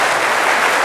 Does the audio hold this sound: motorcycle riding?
no